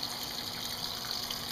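Water gushes steadily into a washing machine's softener dispenser, a continuous hissing fill that stays loud and even throughout with no talk.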